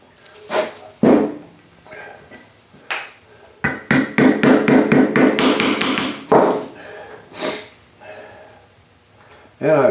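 Hammer taps setting rivets into a transmission drum, a few scattered blows followed by a rapid run of about ten close, bright metallic strikes, then more sporadic knocks, with someone talking in between.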